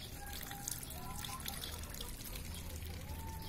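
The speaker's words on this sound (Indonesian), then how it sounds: "dan cukup deras airnya ini" Water flows strongly at a garden growing setup, making a continuous rushing, splashing trickle that stays steady and fairly close for the whole stretch.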